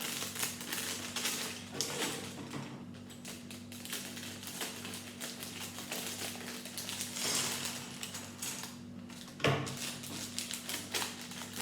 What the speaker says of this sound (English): I'll open the bags up.